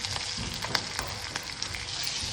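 Steady, dense sizzling of green chilies frying in hot oil, with small pops and crackles throughout and no talking.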